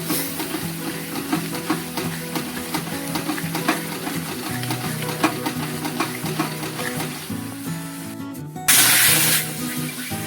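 Masala spices for a Bengali egg curry fry in a small amount of oil while being stirred steadily, a continuous close sizzle broken by repeated scraping strokes, with a louder hissing burst near the end.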